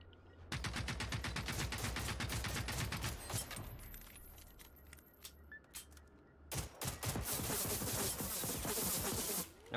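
Gunfire in the video game Generation Zero: rapid bursts of shots fire in a dense, loud volley, pause briefly with scattered pops, then resume in another sustained burst, with no talking.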